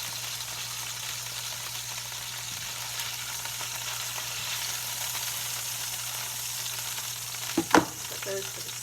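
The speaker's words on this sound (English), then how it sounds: "We're just searing this, and we're going to put them back in a little bit." Chicken thighs sear in hot oil in a pan with a steady, crackling sizzle throughout. A brief clatter of cookware sounds near the end.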